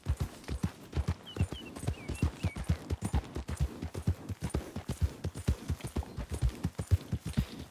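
Horse walking in Red Dead Redemption 2, a steady run of clip-clop hoofbeats at an even rhythm, close and fairly quiet, with no voices over it.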